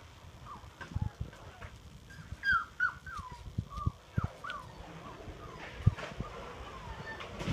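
A puppy whimpering outdoors, several short high whines and yelps scattered over soft rustling and footsteps, moderately close and fairly faint.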